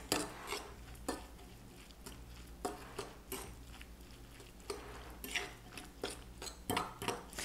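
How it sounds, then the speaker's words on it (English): A spoon stirs grated carrots and onion with lemon juice and zest for a raw vegan carrot salad, giving close, irregular scraping and clinking strokes against a bowl, with a low steady hum underneath. "And I'm going to add that to the carrots and onion. And then just mix that in."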